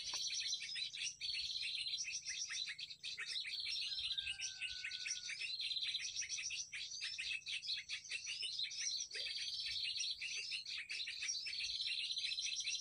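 Wild birds in daytime bushland, a continuous chorus of high, thin chirps and trills that sound moderately distant, with insect buzz in the background and no talking.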